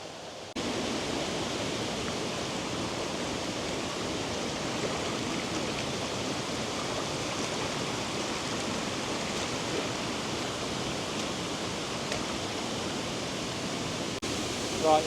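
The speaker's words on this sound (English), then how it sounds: "it's like proper raining now" Steady rain falling near the waterfalls of St Nectan's Glen, a constant, even wash of hissing water that holds throughout, close and fairly loud, with no voices.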